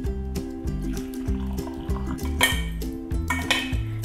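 Warm water steeped with coffee and tea leaves is poured through a metal strainer, giving steady liquid splashing and dripping with metallic clinks of the strainer against the pot and cup, close and fairly loud.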